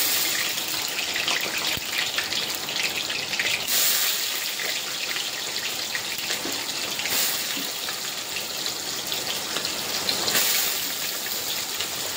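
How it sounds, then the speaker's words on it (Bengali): Soy chunks frying in hot oil give a steady, rain-like crackling hiss that stays fairly loud and continuous, with no talking over it. "ওই তেলে একটু সয়াবিন ভেজে নেবো"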